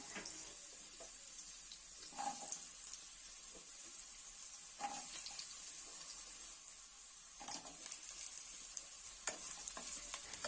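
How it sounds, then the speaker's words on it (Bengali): Pre-cut potato pieces fry and sizzle in a pan with black mustard seeds and chili, under a soft continuous hiss broken by several scraping stirs. Close and fairly quiet, with no voices. "এখন আমি এর মধ্যে দিচ্ছি আগে থেকে কেটে রাখা আলুর টুকরোগুলোকে"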